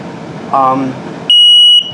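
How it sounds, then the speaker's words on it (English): A loud, piercing electronic alarm tone from a carbon monoxide and LP gas detector in a 2020 Flagstaff 27BHWS travel trailer sounds steadily for about half a second, following a brief stretch of speech and background noise. "your carbon monoxide and LP gas detector. So I'll set it off here so you can hear it"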